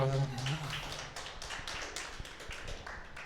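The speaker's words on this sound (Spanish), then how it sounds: "Pero aplausos." A small class breaks into brief applause, a scattering of sharp separate claps that start after a few words from a voice and carry on unevenly for a few seconds.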